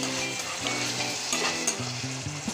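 Sautéed spice masala with potatoes for a rohu fish curry being stirred in a pan: a close, dense sizzle with scraping and clinks of the spoon under a brief tonal background sound, with no talk.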